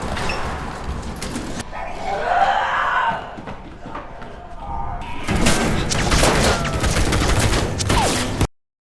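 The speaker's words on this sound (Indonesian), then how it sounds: "Tiba-tiba terdengar suara tembakan." Gunfire from soldiers' rifles in a zombie film, loud sustained bursts of shots with booming, chaotic action sounds, cutting abruptly to silence at the end.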